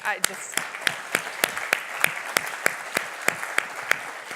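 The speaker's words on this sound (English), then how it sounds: "I actually do want to give another round of applause for Steve." Applause rises from a conference audience as a string of sharp, evenly spaced claps, about three per second, sounding close and crisp over a quiet room.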